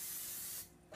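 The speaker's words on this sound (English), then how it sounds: "I use a canola oil spray and give it a nice light spray" A canola oil spray can mists a baking pan in one short, soft hiss that cuts off abruptly, followed by a faint tap, close and quiet.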